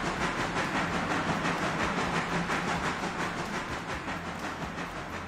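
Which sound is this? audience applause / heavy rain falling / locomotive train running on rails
locomotive train running on rails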